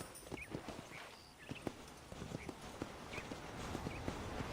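Rhythmic clip-clop of horse hooves trotting at a steady pace in the video game Red Dead Redemption, over a low ambient background, moderately close, with no talking.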